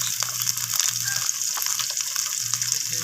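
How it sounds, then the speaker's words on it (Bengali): Drumstick pieces and bitter gourd frying together in a pan as they are stirred, giving a steady, close sizzle with light scraping and no talk. "তো সজনে ডাঁটাগুলো আমি উচ্ছের সাথে এইভাবে নাড়াচাড়া করে ভেজে নিচ্ছি।"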